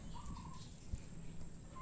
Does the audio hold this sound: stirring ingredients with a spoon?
no